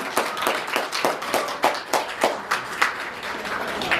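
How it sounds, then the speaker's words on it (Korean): An audience claps at a Bundang election-candidacy press conference, with scattered, distinct handclaps in an uneven rhythm that stay moderately loud for four seconds, with no speech. "이때마다 박수 한 번씩 나와야 되잖아요."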